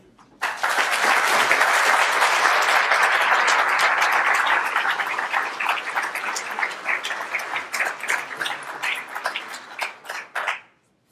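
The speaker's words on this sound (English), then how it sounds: "please, all of you, join me in another round of applause for the three awardees" An audience at a university investiture ceremony breaks into applause, a loud, dense roar of clapping that holds steady for several seconds, then thins into scattered individual claps and stops abruptly near the end.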